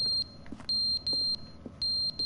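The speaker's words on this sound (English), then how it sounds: "Or the smoke alarm, maybe?" Piercing electronic smoke alarm in the video game The Stanley Parable, sounding in short repeated high beeps separated by brief gaps, with faint soft background noises between them.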